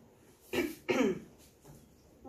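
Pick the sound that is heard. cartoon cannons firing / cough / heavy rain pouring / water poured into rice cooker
cough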